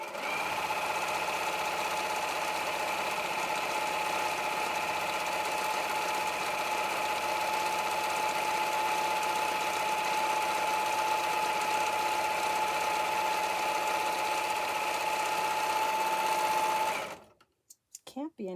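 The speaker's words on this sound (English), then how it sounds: "Now I'm going to go back to my regular straight stitching." A sewing machine runs a long, steady straight stitch on an apron, a continuous close whir with a constant tone that holds for about seventeen seconds before stopping abruptly, followed by a couple of faint clicks.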